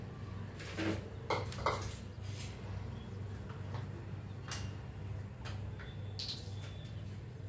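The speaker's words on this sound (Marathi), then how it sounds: "हे जे मेयोनीज आहे ना ते पूर्ण यात मिक्स करणार आहे." Mayonnaise being mixed into a veg grill sandwich filling in a bowl, soft scattered clinks and scrapes of a utensil against the dish over a steady low background hum.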